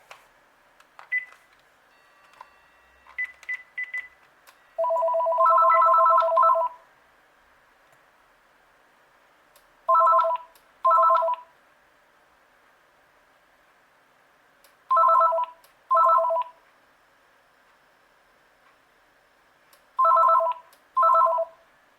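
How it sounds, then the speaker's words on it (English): A telephone from a thrift store gives short beeps, then a long two-tone signal, then paired electronic ring bursts repeating every five seconds against near silence. "Okay, let's dial."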